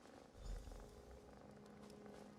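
A cat purrs softly in The Elder Scrolls Online, a low, steady rumbling drone with a slight swell near the start, continuing evenly with no talk over it.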